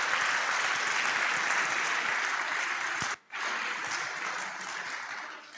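Audience applause for university teams at the 2025 ICPC European Championship opening ceremony: a dense, sustained wash of clapping that breaks off briefly near the middle, resumes, then tapers toward the end.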